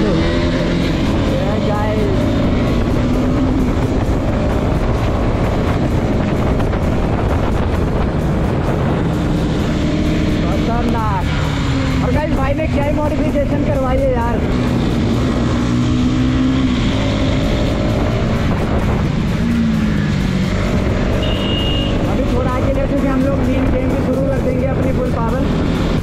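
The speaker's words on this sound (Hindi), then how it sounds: "और ये गाइस मीशू भाई की बाइक, कर देंगे शुरू।" A modified NS 200 motorcycle with its indicators stripped off starts and revs repeatedly, loud engine bursts rising and falling over a continuous idle, with people talking throughout.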